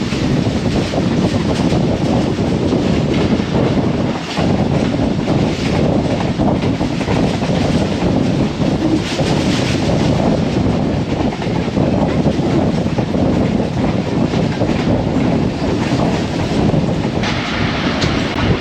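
Pak Business Express passenger train rolling through Pattoki station, a loud continuous rumble of wheels and carriages with rhythmic clickety-clack over the rails, heard from onboard at steady close range.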